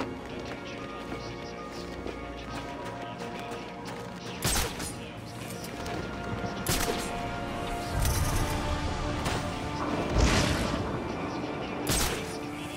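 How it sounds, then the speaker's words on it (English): Gunshots in the video game Batman: Arkham Origins come as scattered sharp cracks and thuds at irregular intervals over a busy background of game ambience and music. "Am I hearing gunshots?"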